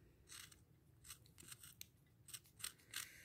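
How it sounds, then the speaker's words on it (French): Scissors snip roughly through denim from old jeans being cut up for a recycled fabric flower, a series of crisp, close cuts in irregular bursts with short pauses between them. "je coupe grossièrement pour me débarrasser du jean"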